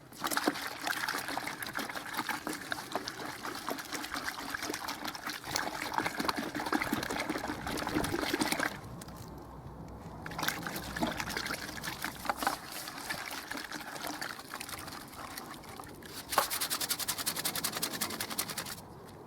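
Water trickles and splashes steadily as a paint brush is swished and rinsed in soapy water, with a brief pause midway before the sloshing resumes.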